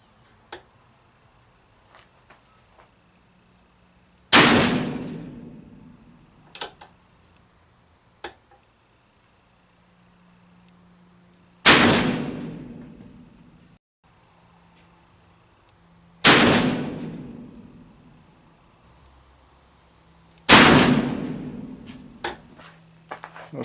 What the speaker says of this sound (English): let's shoot one more string of 6 here.